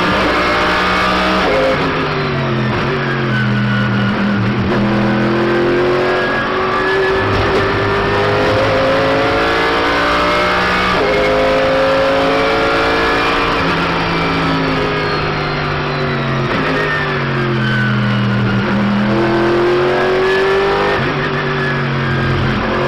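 GT Open race cars, a BMW and a Lamborghini, accelerating around Silverstone: loud, continuous engine roar with rising and falling revs and gear changes, several engines overlapping close by.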